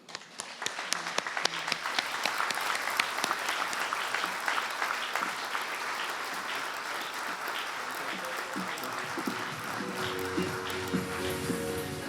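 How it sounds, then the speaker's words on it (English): Applause from the audience at the Scottish Health Awards 2021 ceremony, dense, continuous clapping that rises quickly and holds steady for about twelve seconds, with faint speech and some music coming in near the end. "a round of applause to everybody"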